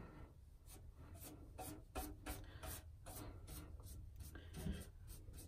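Sanding or rubbing strokes distress a chalk-painted Christmas mailbox, a close, quiet series of scratchy rasps in an uneven back-and-forth rhythm.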